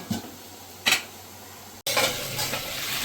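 Hilsa fish head sautéing with pui saag in a pan, a couple of spatula scrapes at first, then a sudden steady close sizzle after a brief cut.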